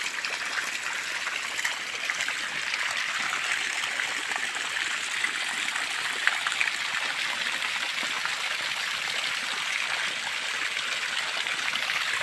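Hot water from a drip irrigation line in a sugarcane field hisses and trickles in a steady, continuous stream close by, with no voices.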